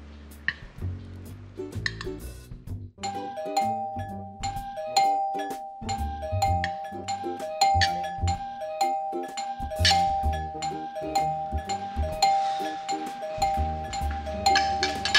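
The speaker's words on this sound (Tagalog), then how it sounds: "Doorbell?" An electronic doorbell chime rings in a repeating melodic pattern over a busy musical backdrop, steady and fairly loud for the whole stretch.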